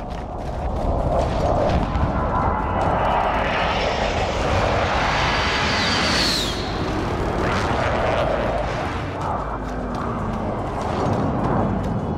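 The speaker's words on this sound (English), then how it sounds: "Friendly precision airstrike inbound." Precision airstrike aircraft in Call of Duty Modern Warfare, a loud roaring jet flyover that swells to a peak then fades, with heavy rumbling explosions underneath throughout.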